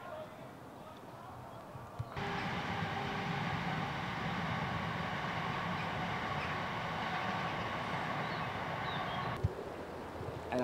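A train rumbles by, a steady broad roar that starts abruptly, holds for several seconds, then cuts back to quieter background noise.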